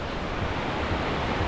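Ocean surf washing onto a beach in Bermuda, a steady broadband rush with low rolling swells and some wind buffeting the microphone, continuous and fairly close, with no voices.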